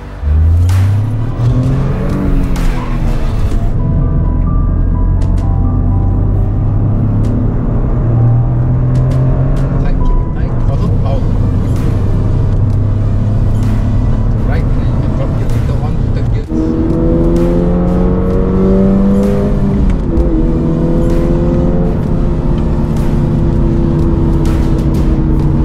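A Toyota GR Corolla and GR 86 corner fast on the Sepang track, engines droning loud and close with rising and falling pitch through gear changes, heavy wind noise throughout and a driver talking over it.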